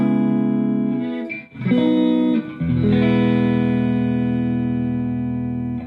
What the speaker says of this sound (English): That's the sound of a true single coil Strat.